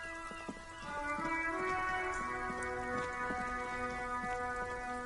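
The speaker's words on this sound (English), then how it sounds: "It's raining again." Steady, soft rainfall patters throughout a scene in the video game Disco Elysium, with a sustained droning musical bed underneath and no talking.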